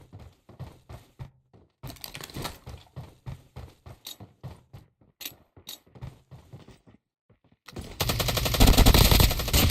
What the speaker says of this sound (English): I don't know what the bot was shooting at.